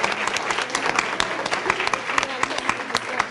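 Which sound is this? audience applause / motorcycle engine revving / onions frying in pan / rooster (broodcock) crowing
audience applause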